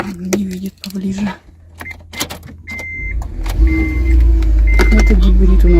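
A 2009 hybrid car is started at a used-car lot, with a few clicks and short electronic chimes followed by a low hum that rises and holds steady. Someone talks nearby as it starts up.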